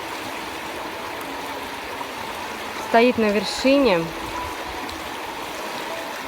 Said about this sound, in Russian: И вот эта вот река течет, журчит.